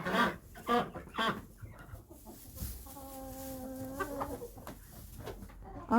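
Chickens in a backyard coop cluck in short bursts, with one longer drawn-out call in the middle and faint insect-like buzzing in the background.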